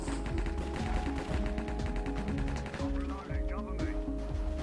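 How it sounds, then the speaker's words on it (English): Gunfire in Minecraft comes as quick, rattling bursts of shots in a tight, rapid rhythm, loud and close, with game sounds and faint voices around it. "Just randomly shooting."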